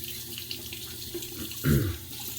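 Cold water runs from a tap in a short, splashing burst near the end, preceded by faint room noise.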